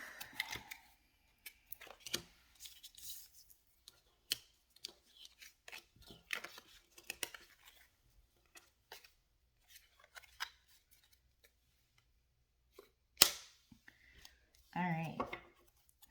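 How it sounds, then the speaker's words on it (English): An old deck of cards is shuffled repeatedly, giving scattered riffling and snapping bursts, close and mostly quiet, with a brief spoken remark and a louder flurry near the end. "I just feel like shuffling a lot today. This is an old deck, though."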